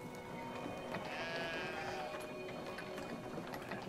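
A sheep from the Brothers: A Tale of Two Sons video game lets out one wavering bleat mid-way, set against a steady, dense background hum of game ambience.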